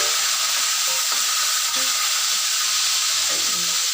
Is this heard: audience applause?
no